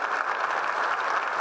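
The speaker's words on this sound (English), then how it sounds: "one more round of applause for our keynote speaker." Steady applause from a large audience at a college convocation, continuous and fairly loud clapping with no breaks throughout.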